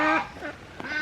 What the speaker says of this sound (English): Our ducks followed us here, and there's a lovely little runoff area for them